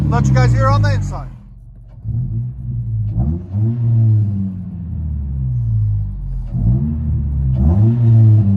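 From inside the cabin of a 2009 Mitsubishi Lancer four-cylinder with a DTM muffler exhaust, the engine drones and swells through several rev climbs, somewhat muffled, after a brief stretch of talking at the start.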